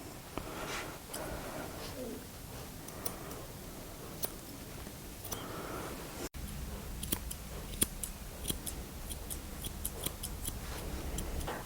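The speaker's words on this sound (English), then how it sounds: "we're going to use our scissors and just gently scissor downwards" Crisp, close snipping of scissors trimming a dog's fringe, repeated in short irregular clicks against a quiet background with faint rustling.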